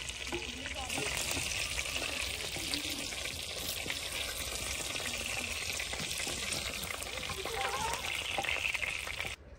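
Kebabs fry in hot oil in a kadai, a steady dense sizzle and crackle running continuously at close range with faint clatter and some background voice.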